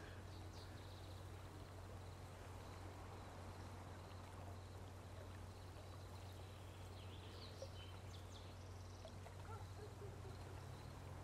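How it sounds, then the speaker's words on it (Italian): Soft, steady water noise from the video game Life is Strange: True Colors, a faint continuous wash of flowing water with a low hum underneath, with no talking and no distinct events. "Però il suono dell'acqua è il suo perché."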